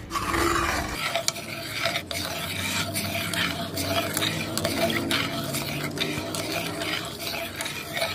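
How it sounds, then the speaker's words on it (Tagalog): A spoon stirs a powdered milk mixture for strawberry popsicles, scraping and clinking in a steady rhythm against the container. The sound is close and continuous, with no talk. "hahaluin ko lang mabuti ito guys, no, hanggang sa matunaw na yung powder na gatas"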